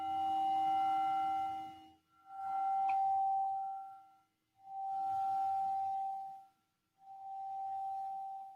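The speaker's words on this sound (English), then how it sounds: "You'll hear a bell at the beginning and a bell at the end." A meditation bell sounds four times, each a clear, sustained ringing tone separated by brief quiet gaps, the last one a little softer.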